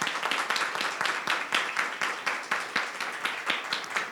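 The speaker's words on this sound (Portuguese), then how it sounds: "Eu queria uma salva de palmas para ela" An audience at a cultural project launch event claps together in a steady, evenly pulsing rhythm, close and fairly loud, with no talk.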